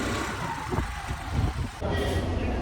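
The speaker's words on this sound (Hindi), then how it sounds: "मेट्रो गाड़ी।" A metro train rumbles past with a low, steady roar and rolling mechanical noise, shifting in tone partway through.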